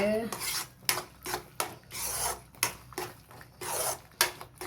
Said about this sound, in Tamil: போட்டுட்டு ஒரு ரெண்டு நிமிஷம் கிண்டுங்க